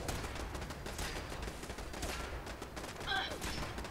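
Automated turrets firing in the video game Fallout 4: a fast, sustained rattle of gunfire that fills the whole stretch, steady and fairly loud, with a brief brighter tonal game sound near the end.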